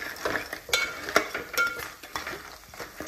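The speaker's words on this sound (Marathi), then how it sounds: "चिंबोरी याच्यात आपण डायरेक्ट मिक्स करून घेऊ।" Crabs being stirred into a curry masala in a pan, giving soft scraping and wet sizzling sounds with small clinks of the utensil, close and steady, with no talking.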